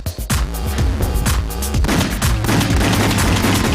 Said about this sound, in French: Allez, je recharge. Et hop, je tire dans l'eau, il se passe rien.